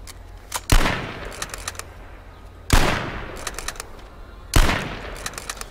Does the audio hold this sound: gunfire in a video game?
yes